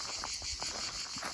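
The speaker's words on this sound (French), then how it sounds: "On entend les cigales qui chantent à nouveau." Cicadas sing in summer heat above 26 degrees in a French garden, a steady high insect drone running throughout with no talk.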